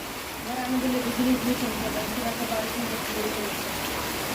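Steady hiss of rain falling, with faint indistinct voices murmuring underneath.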